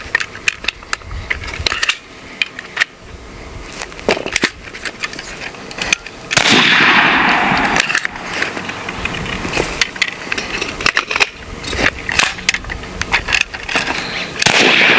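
A BINTAC T9 9mm semi-auto air pistol fires a string of sharp, loud close reports at irregular intervals, with a longer burst of noisy rushing sound midway.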